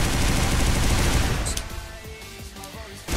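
Rapid gunfire crackles loudly in the arena shooter Xonotic, dense bursts at first that thin into a sparse rhythmic pattern of shots.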